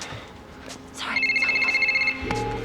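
A telephone rings in a scene from the TV show Angel: a bright electronic warbling tone pulses rapidly for about a second, then breaks off into a lower trailing tone.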